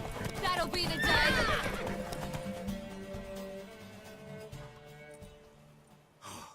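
Horse in The Witcher 3 neighing loudly near the start, with in-game hoofbeats and effects underneath, fading toward the end with a brief burst at the close.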